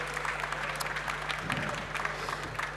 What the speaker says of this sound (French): On peut vous applaudir, messieurs.